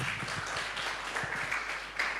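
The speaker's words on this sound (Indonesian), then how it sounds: "Berikan dulu tepuk tangan yang meriah bagi Tuhan" Church congregation applauds during a sermon, a steady wash of clapping heard faint and somewhat distant, continuous for the whole moment.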